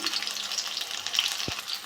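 Pieces of pointed gourd sizzle steadily in hot oil, a constant bright crackle close by, with a soft thud of the pan near the end.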